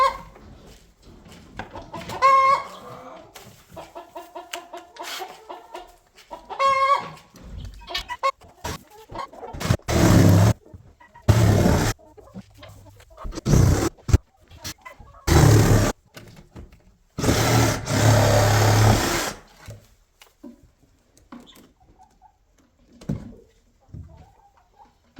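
Chickens in a barn coop cluck and warble in short bursts, with loud bangs and rustling handling noises from installing a coop door breaking in between, then quieter scattered clucks.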